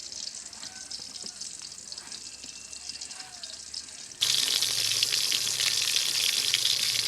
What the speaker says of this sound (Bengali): মাছের এক পাশ হয়ে আসছে, এবার অন্য পাশ হওয়ার জন্য উল্টাই দিব।